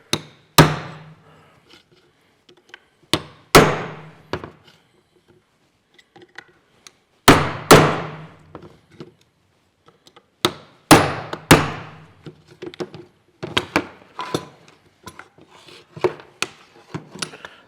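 A hammer striking metal to straighten a brake part on a Massey Ferguson 65 tractor, sharp ringing blows in uneven groups with pauses, close and loud, getting quicker and lighter toward the end, with no talking.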